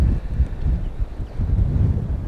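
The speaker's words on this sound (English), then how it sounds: "Oh my gosh, stupid wind." Steady wind buffeting a microphone on a kayak out on the water during a fishing trip, a continuous low rumbling roar with gusty swells throughout and no speech.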